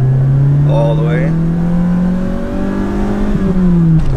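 A Honda Element engine revs steadily under acceleration in first gear as the pitch slowly climbs, loud and close, with a voice speaking briefly over it.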